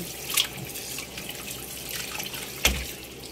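An octopus is rinsed under a running kitchen tap, a continuous soft stream of water with two brief louder splashes.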